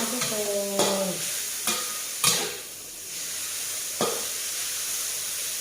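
Pork for dry suki sizzles as it is stir-fried in a pan, a constant close hiss punctuated by a handful of sharp spatula clanks against the metal, with no talking.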